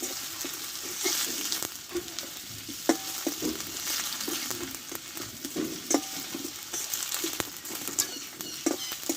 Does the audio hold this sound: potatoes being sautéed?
yes